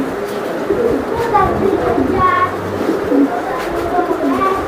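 A large racing pigeon coos in low, throaty bursts at close range. Someone talks over and between the calls.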